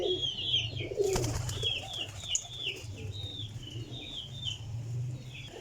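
Ferozpuri pigeons give soft, low cooing under a chorus of high chirps from nearby birds, faint and continuous, with one sharp knock early on.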